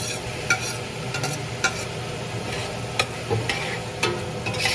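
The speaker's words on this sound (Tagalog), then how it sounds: "Ilalagay ko na ho ang kamatis." Tomatoes going into a hot pot for chicken sinigang, a steady sizzle with irregular stirring scrapes and soft knocks from a utensil throughout, no talking.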